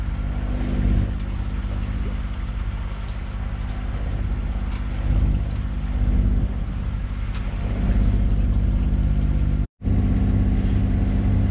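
A sailboat's engine drones steadily beneath wind noise and water rush while motoring along the coast of Menorca, a constant low rumble that drops out for a brief moment near the end.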